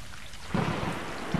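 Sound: rain and thunder in the video game Stray

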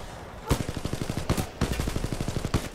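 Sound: gunfire in the video game Titanfall 2

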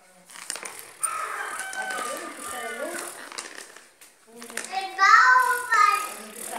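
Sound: rooster crowing in a village

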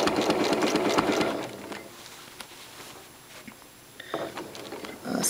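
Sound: sewing machine stitching curved crosshatching

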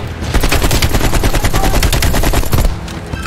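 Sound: gunfire from a gun in Call of Duty: Cold War video game

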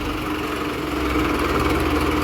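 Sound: tractor engine idling

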